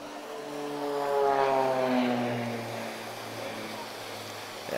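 A propeller aircraft performing an aerobatic display at an air show drones overhead, its engine tone swelling and then falling in pitch as it passes at moderate distance, steady and unbroken over several seconds.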